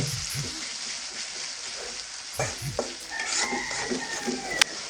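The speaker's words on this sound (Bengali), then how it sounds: "এখন এই পেঁয়াজগুলো আমি একেবারে কড়া করে ভেজে নেব" Sliced onions deep-frying until crisp in a pan for a Bengali fish curry, a continuous bubbling sizzle with occasional spoon scrapes and a sharp clink near the end, no voices.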